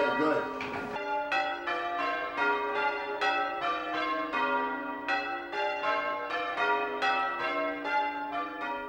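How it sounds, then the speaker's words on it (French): English change ringing on church bells, many bells struck in quick rolling sequences rather than a melody, ringing out loud and reverberant with a faint voice underneath. "L'art de sonner un carillon anglais exige de la force"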